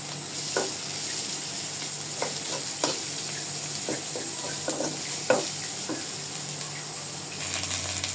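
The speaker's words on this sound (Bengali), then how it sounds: "এখন এই কাঁচা পেঁয়াজগুলো একসঙ্গে ভেজে নেওয়া হবে। এই যে ভেজে নেওয়া হচ্ছে।" Raw onions frying in a pan with a steady, loud sizzle, broken by repeated scraping stirs of a utensil, close up with no talking.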